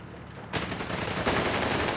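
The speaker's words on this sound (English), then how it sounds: "MG34, a good long burst onto this Jeep" MG34 machine gun firing a long burst onto a Jeep in the strategy game Company of Heroes 3, a dense, continuous roar of gunfire that starts abruptly after a brief quiet moment and holds loud to the end.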